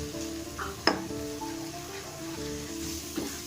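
A soft, steady sizzle of ginger, garlic and green chili paste frying in a pan for a village-style Bundelkhandi kadhi pakoda, with a brief sharp clink of a utensil against the pan near the start.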